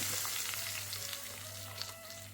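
Dried red chillies and curry leaves sizzle in hot oil for tempering in a Kerala dry mango fish curry, a steady close crackling hiss with a low hum beneath and no voices.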